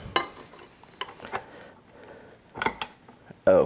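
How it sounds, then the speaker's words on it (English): A whisk is pulled from a stand mixer and set in a sink, then a dough hook is fitted while making Sicilian fig cookie dough: scattered metallic clinks, clanks and a final click of the attachment, close and sparse. "take the whisk off and put it in the sink, and we'll put the dough hook on"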